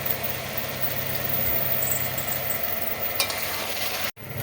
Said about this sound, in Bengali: এবার ঢাকাটা খুলে ভালো করে নাড়িয়ে দিতে হচ্ছে।